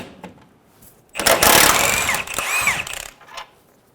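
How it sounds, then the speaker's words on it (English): Power tool spinning off the rear lower control arm bolt on a 2003-2008 Honda Pilot with a 19mm socket, a loud close whirring burst lasting about two seconds with a brief change midway. "Using a 19mm socket, we're going to remove the rear bolt on the lower control arm."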